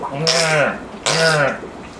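Two harsh, nasal, rasping calls voiced by a person imitating a spadefoot toad, each about half a second, close and loud.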